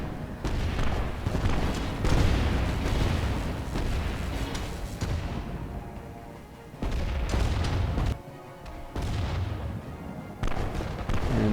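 Railgun fire destroys a large Overlord warship in the Leviathan Warships video game, heard as dense, continuous booming blasts and rumbling explosions, loud and sustained with a few short dips.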